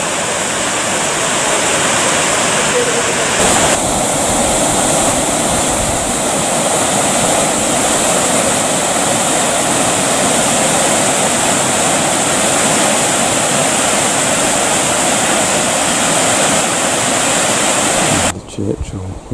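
Steady, full roar of cascading water at the Swiss Bridge garden cascade, loud and continuous throughout before cutting off sharply near the end.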